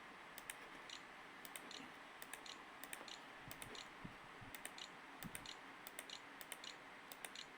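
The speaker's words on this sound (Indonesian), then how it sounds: "Kita masukkan menggunakan keyboard internal." Typing on the internal keyboard of an Asus X450CA laptop, quiet irregular key clicks in short bursts and pauses against faint background hiss, close and soft.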